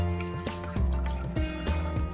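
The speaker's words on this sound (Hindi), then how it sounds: "अभी हमें स्क्वीज करके पानी निकालना है जितना हो सके।" Soaked soya granules wrapped in cheesecloth are squeezed by hand, pressing water out in a few loud, close wet squishes and dribbles at a regular rhythm.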